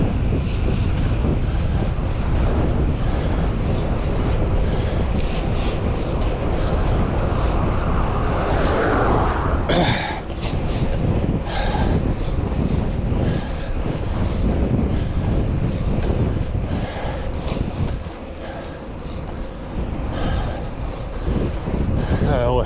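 Headwind buffets a cyclist's microphone on a road ride, a loud, continuous rumbling roar with gusty swells throughout.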